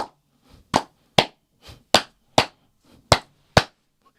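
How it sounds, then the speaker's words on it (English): Hands clap in a steady rhythm ahead of a song, eight or so sharp, crisp claps spaced evenly about half a second apart, close and loud, with a few softer claps in between. "We have to start clapping first."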